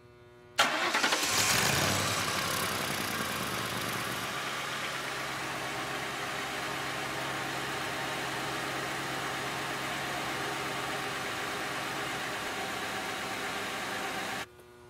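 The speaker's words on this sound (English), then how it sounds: "Let's start the engine and test the gases." A car engine cranks and catches, flaring loudly for a moment before settling into a steady, even idle that runs on without any speech. The vehicle is being prepared for a catalytic converter efficiency test with a 5-gas analyzer.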